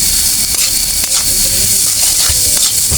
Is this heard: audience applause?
no